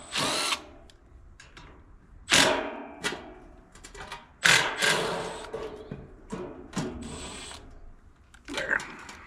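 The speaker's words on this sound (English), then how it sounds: "these screws are going to self-tap back into the holes in the new motor" A power drill drives self-tapping screws into the holes of a new motor for a noisy XV heat pump, with repeated close, loud bursts of whirring, each ending abruptly, separated by short quiet gaps.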